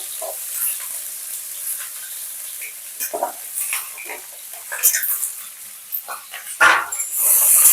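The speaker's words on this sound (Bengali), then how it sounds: "ওই তেলের মধ্যেই সমস্ত সবজিগুলোকে আমি একটু ভেজে নেব" Mixed vegetables frying together in oil in a pan, with intermittent scraping stirs and clatters over a light sizzle, close and moderately loud, with brief gaps between movements.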